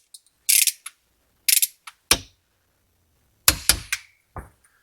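A torque wrench tightens bolts to 22 foot-pounds in a cross pattern on a Ford rear end under a 1997 Camaro SS. It gives several short, close bursts of sharp ratcheting clicks separated by pauses, with no talking.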